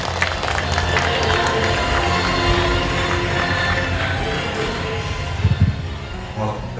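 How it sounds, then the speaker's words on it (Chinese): Crowd applause welcoming a legislator onto the stage at a groundbreaking ceremony for a wire and cable company's new factory in Gukeng, Yunlin, a dense steady patter of many hands with some murmuring crowd noise throughout. "一个祝福，掌声欢迎"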